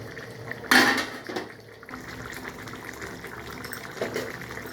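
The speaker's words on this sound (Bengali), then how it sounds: "এইবার আমি এই মাছগুলোকে এর মধ্যে ছেড়ে দেব দিয়ে আর একটু ফুটতে দেবো" Tangra fish drop into a simmering curry with potatoes, a sudden splash and gurgle, then a low steady bubbling.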